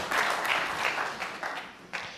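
Warm applause breaks out at the snooker World Championship as Ronnie O'Sullivan wins on frame and match ball, a steady ripple of clapping from the arena crowd that gradually thins into a few scattered claps.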